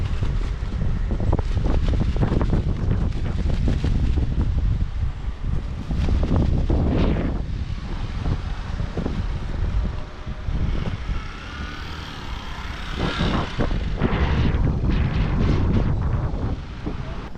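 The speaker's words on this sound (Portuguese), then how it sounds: "Esse vento faz parte de quem mora no litoral." Strong coastal wind at the beach in Caraguatatuba buffets the microphone in heavy, loud gusts, a roaring rumble that surges and eases throughout with no talking.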